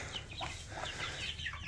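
Small flock of about eighteen young chickens clucking and peeping together inside a barn, a steady soft chatter of overlapping calls with no voices.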